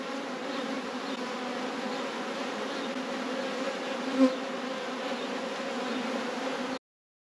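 Honey bees hum in a dense, steady drone at an open beehive during spring hive inspection, moderately close and continuous with no talking, ending abruptly.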